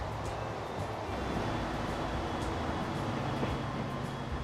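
Cross-country trains in the railway game Transport Fever give a steady, low rumbling roll with faint clicking, continuous and even throughout, with no talk.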